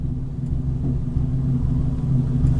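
Tuned Hyundai Genesis Coupe 3.8 R-Spec V6 idling, a steady low rumble that holds even with a slight uneven pulse, close by and alone with no talk.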